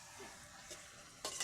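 A spoon stirs chicken and ground spice paste in a tempered pan, giving a soft scrape and gentle sizzle, then a louder scraping stir near the end.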